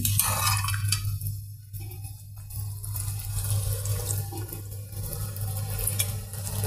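Fish are washed in water with steady sloshing and splashing, close and fairly loud, alongside a constant low hum.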